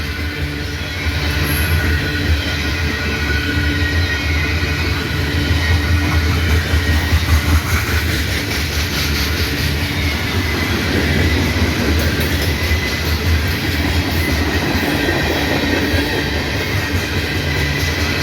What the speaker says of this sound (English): Those are loaded tank cars, no placards on them.